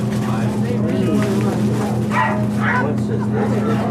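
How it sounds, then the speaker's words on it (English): Excited sled dogs before a run in Alaska near Fairbanks bark and yip in a busy mixed chorus, heard at moderate distance over a steady engine-like hum, with a person talking. "the dogs are really setting up a howl. They're excited. They want to go."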